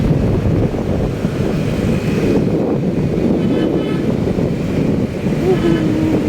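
Steady rushing wind buffets the microphone in a constant roar during a motorcycle ride through Manila traffic, with faint background noise and no clear pauses.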